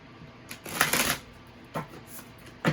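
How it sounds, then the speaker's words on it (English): A deck of cards is riffled in a quick burst, followed by a couple of shorter shuffling flicks, close and crisp. "Let me do one more shuffle."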